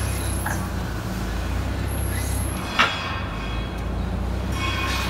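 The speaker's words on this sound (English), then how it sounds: "You may hear a little bit of clunking coming from the drive motor when you're towing." An Alltrack tracked vehicle with a radial piston drive motor being towed gives a steady loud low rumble and rattle, with a faint clunk from the drive motor near the middle.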